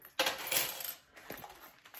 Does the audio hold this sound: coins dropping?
yes